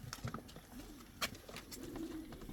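A breeding pigeon coos softly and faintly among scattered clicks and light rustling, with no one talking.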